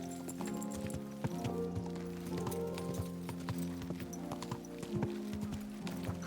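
Horse hooves clip-clop at a slow, steady walk through a town street in the video game Kingdom Come: Deliverance II. The moderate, even rhythm of the hoofbeats runs through the whole stretch.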